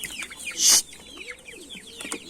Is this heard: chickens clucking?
yes